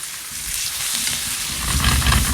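Steaks frying in a pan with garlic and thyme, a steady close hiss and crackle that grows denser and louder toward the end, with no talking.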